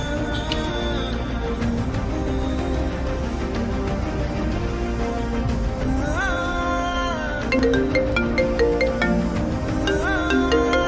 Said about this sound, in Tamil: ஓனர் ஃபோன் பண்றாரு.